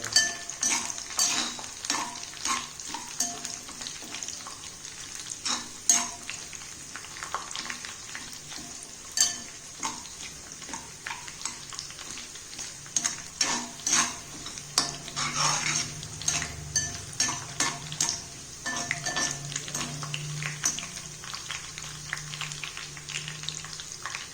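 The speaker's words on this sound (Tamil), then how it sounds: "கருவேப்பிலை நல்லா மொறுமொறுன்னு பொரியணும்" Crackling, sizzling curry leaves fry continuously in hot oil, with a spoon scraping and clinking against a metal pan now and then, close and fairly quiet.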